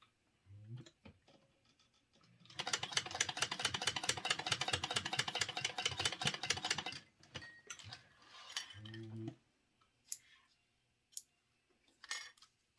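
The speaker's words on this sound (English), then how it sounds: "you're going to sew across the end on that one" A sewing machine stitches across the end of a zipper tab in one steady burst of rapid, evenly spaced needle clicks lasting about four seconds, with a few softer taps and handling noises before and after.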